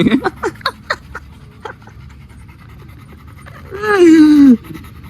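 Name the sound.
dogs panting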